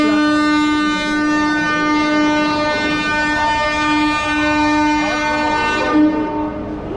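A train sits at a platform at Howrah station with a loud, steady horn-like harmonic drone held throughout, under a broad wash of station and rail noise that cuts off sharply near the end.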